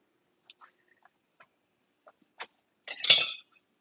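A metal lid clatters down onto a simmering pot of homemade enchilada sauce, a brief loud clank and rattle, preceded by a few faint small kitchen ticks and taps.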